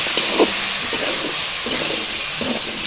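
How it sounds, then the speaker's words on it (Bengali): Pointed gourds hitting a hot curry pan with dried prawns and new potatoes set off a steady, close, broadband sizzle and hiss that runs unbroken through the clip. There is no speech. "তো এই যে এই পর্যায়ে আমরা দিয়ে দিচ্ছি পটলগুলো।"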